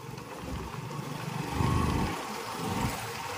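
A motorcycle carrying a rider and a passenger on a road ride drones steadily, its engine note swelling briefly as it pulls harder and then settling back, fairly close and with no voices.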